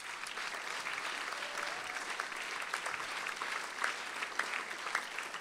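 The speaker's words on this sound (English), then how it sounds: "while you're all applauding" Audience at a justice award ceremony applauding the lifetime achievement honoree, a steady even roll of many hands clapping at moderate distance.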